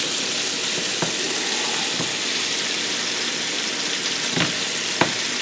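Burger patty searing in a hot pan, a steady close hiss of frying fat with a few light taps of a spatula, no voices.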